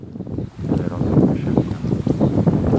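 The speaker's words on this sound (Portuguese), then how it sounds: "Ela tá ventando bastante, ó." Strong wind buffeting the microphone outdoors at a tilapia fishing spot, a loud rumbling roar that gusts and swells throughout.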